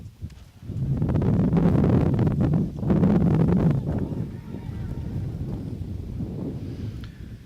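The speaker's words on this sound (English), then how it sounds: "Wind all of a sudden became a factor here." Gusty wind blows across the microphone at an outdoor NCAA Division III men's soccer game, loud rumbling surges that swell, dip briefly and ease off into a softer rustle, with no clear talk.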